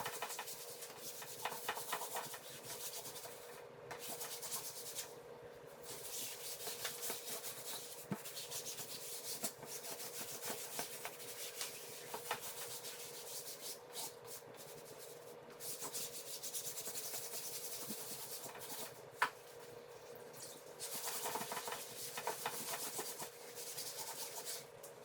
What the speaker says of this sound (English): So let's get this canvas cleaned up